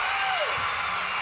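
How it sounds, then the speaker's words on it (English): A crowd of fifth graders screams at a Kentucky women's college basketball game against Charlotte, a loud, sustained high-pitched roar that fills the whole moment. "That's what happens when that many 5th graders scream at one time."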